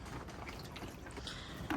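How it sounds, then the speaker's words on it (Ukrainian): Water pours into a 200-litre barrel in a quiet, soft, steady trickle and splash, faint and close, with a slightly louder gush near the end. "Так, наливаємо води."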